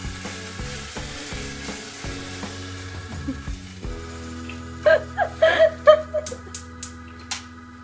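Brandy flames off in a hot pan of roasted peppercorns for a peppercorn sauce, a steady sizzle that breaks into sharp crackling pops and spits over the last few seconds, close by with no talking.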